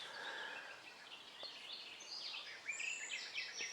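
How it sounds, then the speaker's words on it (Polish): Birds singing by Lake Powidz, faint chirps and trills layered over a soft outdoor background hiss, distant and quiet with no talk. "Można nawet słyszeć jak ptaszki e, śpiewają."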